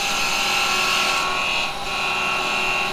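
Woodturning lathe cutting with an SK114 6mm hollower, a steady, continuous bright hiss of the tool cutting spinning wood, close and loud throughout with a brief dip partway.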